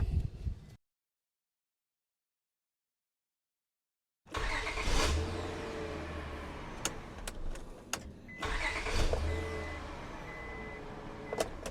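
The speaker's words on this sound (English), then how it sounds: "the new one sounds like it starts a whole lot better" After a brief silence, the 3.0 V6 engine of a Honda Accord with a newly replaced starter cranks and catches, then idles with a few light revs, close by.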